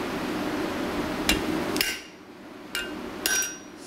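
Sharp metallic hammer blows on a steel punch or drift driven into metal, four distinct ringing strikes spaced irregularly, close and clear over a faint background hum.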